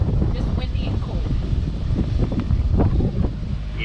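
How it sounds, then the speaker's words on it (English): Cold, strong wind blows on a boat motorsailing off the Florida coast, a steady rumbling roar of wind buffeting the microphone that continues without a break, with faint splashes and knocks mixed in. "Just windy and cold."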